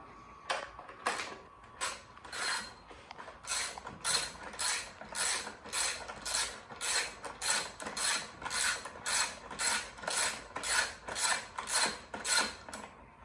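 A ratchet with an 8 mm socket backing bolts out of the side panel of a Honda CR85 dirt bike, a long steady run of rhythmic back-and-forth clicking strokes, close and fairly quiet, no talking.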